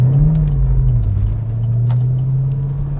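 A parked V8 muscle car engine revs close by, its deep, loud rumble swelling briefly near the start and then settling into a steady, throaty drone, with no voices over it.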